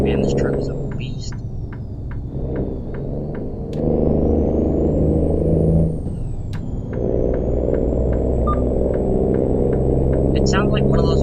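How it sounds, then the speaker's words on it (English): Heavy truck engine in American Truck Simulator, an old-style Peterbilt-like rig on a Houston to Tulsa haul; a loud, steady low diesel drone runs throughout, with pitch shifting as it changes gear, a sharp click or two and a rising whine. "This truck sounds like one of those old Peterbilts."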